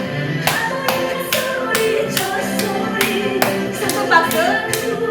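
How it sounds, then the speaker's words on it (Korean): Backs of the hands clapped together in a seniors' hand-clapping exercise, sharp evenly spaced claps at a quick steady rhythm, close up, over quiet background music. "손등 박수"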